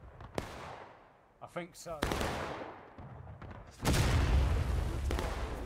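Artillery cannon from the War of Rights battle on the Bloody Lane map: several sharp booms with decaying tails, the loudest near the end and followed by a lingering rumble, while a voice speaks briefly.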